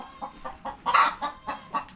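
Hens cluck in short, regular bursts, close by, with one louder squawk in the middle.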